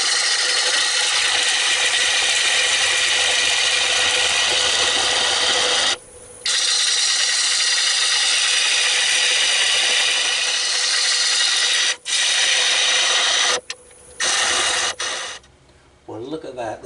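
A tool hollows out an almond wood calabash bowl blank that has a snapped-off screw lodged inside, producing a loud, continuous rasping roar that runs for long stretches, broken by a few short stops and ending in choppy bursts.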